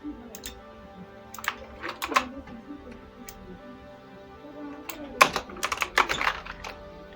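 Typing on a computer keyboard while searching for a font in Photoshop comes as short bursts of close, crisp key clicks separated by pauses, with a denser flurry near the end and no talking.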